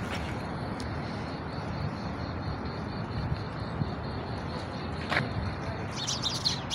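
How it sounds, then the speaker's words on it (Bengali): Several birds chirp and call outdoors near a metro station in Russia on a sunny, cold day, with brief high tweets over a steady background hum of city traffic. "এখানে অনেকগুলো পাখিগুলা ডাকাডাকি করছে"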